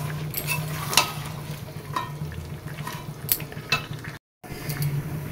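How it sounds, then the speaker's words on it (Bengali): Chicken kosha with potatoes stir-fries in a pan, a soft steady sizzle under occasional sharp clinks and scrapes of the spoon against the pan. "আলুগুলো দিয়ে এটা ভালো করে কষে জাস্ট ঢাকা দিয়ে রেখে দেবো"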